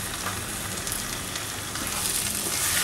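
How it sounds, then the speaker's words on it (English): Three sliced tomatoes fry in a pan of ginger and garlic for vegetable pulao, giving a steady close sizzle and hiss that swells slightly toward the end, with no voices. "These are 3 sliced tomatoes. We'll add to it."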